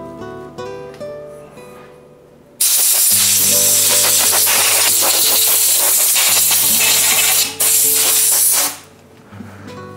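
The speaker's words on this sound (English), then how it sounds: "Little compressed air" Compressed air blasting from a nozzle to clean bicycle parts, a loud, close, continuous hiss that starts abruptly after a quieter stretch, dips once briefly, then cuts off near the end, with mechanical clatter in the quieter parts.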